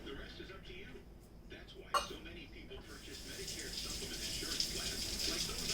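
Hands being washed under a running kitchen tap, a soft steady hiss of water that swells after a brief clatter and continues fairly quietly, with a voice speaking faintly underneath.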